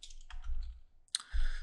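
A few quick keyboard clicks as a file name is typed into a computer, two short bursts of tapping separated by a brief pause, close and moderately loud with no voice.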